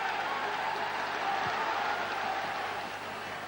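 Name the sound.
football crowd at Brockville stadium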